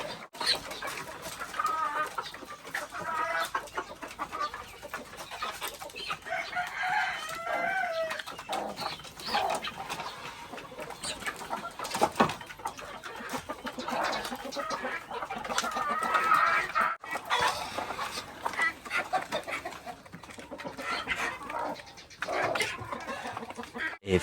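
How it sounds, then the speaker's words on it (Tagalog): A flock of chickens clucking and chattering steadily while being fed, with bird calls overlapping in a dense, continuous racket and occasional louder squawks, no talk. "pinapakain natin yung mga manok"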